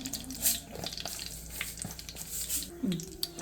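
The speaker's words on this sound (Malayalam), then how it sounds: "കടുക് പൊട്ടി അതിനുശേഷം ഞാൻ രണ്ട് മൂന്ന് ഒരു ഇത്തിരി കടുവയുടെ അത്രയും തന്നെ ഉലുവയും കൂടി ഇടുകയാണ്" Mustard seeds and fenugreek frying in hot oil for a fish curry, a soft, steady crackle with scattered small pops, fairly quiet and close, with no talking.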